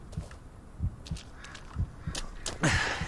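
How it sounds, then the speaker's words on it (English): Slow, muffled heartbeat thumps pulse at a steady rhythm over a dark ambient drone in the horror video game Blair Witch, with a louder swell near the end. "Wait, I can hear my heartbeat."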